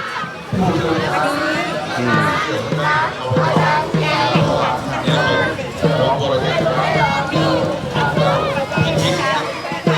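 A student cheering squad chants and shouts in a dense, lively crowd before a fancy floating lantern contest in Lamphun, with rhythmic drum-like beats under continuous loud voices throughout.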